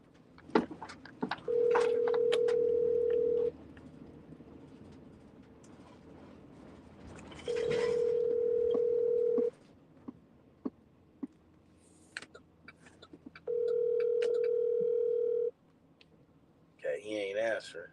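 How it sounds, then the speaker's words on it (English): An outgoing phone call rings out unanswered: three long, steady ringback tones about six seconds apart, with quiet room noise and brief talk between them and a short electronic tone at the end. "Let me see if Cuz answer the phone."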